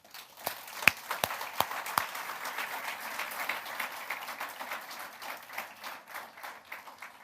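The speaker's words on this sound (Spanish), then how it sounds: "Démosle un aplauso al Señor." A church congregation breaks into applause, starting with a few sharp, separate claps that quickly swell into steady, moderately faint clapping from a gathered crowd.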